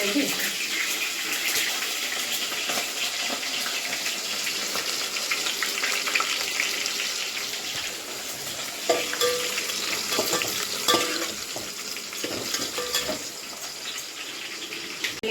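Green chilies frying in hot oil with garam masala for a tempering, giving a continuous close sizzle with intermittent stirring clatter and a faint watery hiss, no talk.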